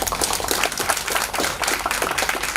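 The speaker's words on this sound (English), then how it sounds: "can we have a big round of applause for" An indoor audience claps steadily after a medical oration on thyroid surgery, dense and loud close applause lasting throughout with no talk over it.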